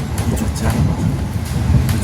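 Bogowonto passenger train running on rails, heard as a loud, continuous rumble with rhythmic wheel clacks and rattling carriage noise throughout, with no voices.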